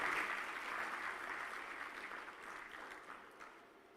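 Audience applause for a keynote speaker at the opening ceremony of a technology summit in a convention centre: a large crowd's dense clapping, fairly distant and faint, fading gradually over four seconds.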